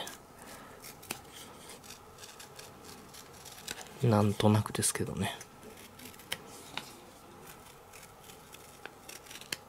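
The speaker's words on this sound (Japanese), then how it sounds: "なので、四つ角はちょっとね、丸くしときます。 ハサミで。" A few quick snips of scissors rounding the corners of a nylon repair patch up close, a short cluster of crisp cuts amid quiet room noise and a brief spoken remark.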